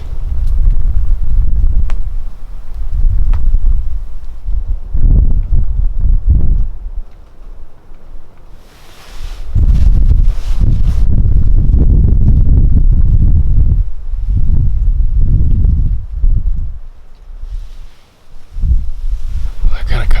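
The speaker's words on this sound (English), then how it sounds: "A lot of wind." Strong gusts of wind buffet the microphone outdoors during an Iowa late-season muzzleloader deer hunt, surging loud and rumbling, easing off and returning in waves across the scene.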